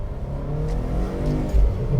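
A stock VA Subaru WRX with traction control off, in track mode, pulls hard under acceleration, its engine droning steadily close up inside the cabin and swelling briefly louder near the end.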